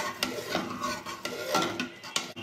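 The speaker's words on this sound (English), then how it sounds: "stir it for some time" Spoon stirring turmeric powder into Gujarati kadhi in a pot on a low flame, giving soft repeated scrapes and light clinks against the pan at an uneven rhythm, close and fairly quiet, with no voices.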